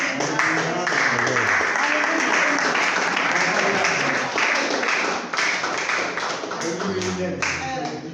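A church congregation claps continuously and loudly during a French-language service, with dense hand claps blending into a wash of voices calling out and singing together.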